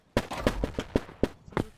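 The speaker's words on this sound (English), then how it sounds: "that's my firework" A firework going off in the video game Animal Company, a rapid series of about seven sharp crackling pops in quick irregular succession, close and punchy.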